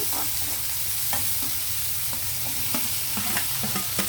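Onions fry in a pan for a potato and amaranth-leaf stir-fry, with a steady sizzle and repeated scraping and stirring knocks throughout, close and even.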